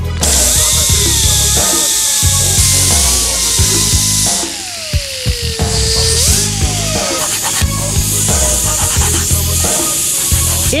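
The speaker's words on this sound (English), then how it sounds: "now I'm gonna lop this area down" Power tool cutting down part of a van door jamb contact, a loud whirring with pitch that sweeps up and down as the load changes, broken by short pauses and bursts.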